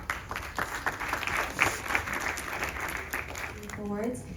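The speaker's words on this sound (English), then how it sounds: "So let us all once again please give round of applause to Brahmachari, Sanjeev and Rudra." An audience at a Ganesh Chaturthi night celebration applauds in a continuous crowd clap, moderately loud, with some speech and a faint rising tone near the end.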